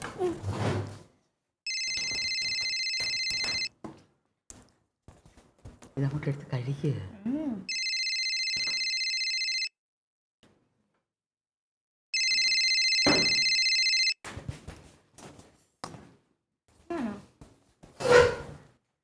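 A telephone rings in three long electronic bursts separated by pauses, with people talking between rings.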